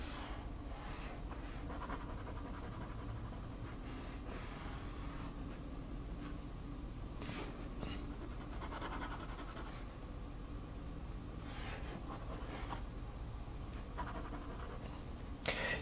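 A pencil moves across paper, laying down texture on a charcoal drawing in quiet, continuous scratchy strokes with a few brief pauses, close and soft throughout.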